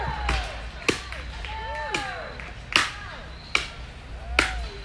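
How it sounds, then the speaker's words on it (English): Women's logging contest chop at the Mountain State Forest Festival: an axe bites into a log six times in a steady rhythm, crisp and close, amid crowd noise and whistling, chirpy background sounds. "Watch how high they bring that axe up over the head, pulling it down with all their might"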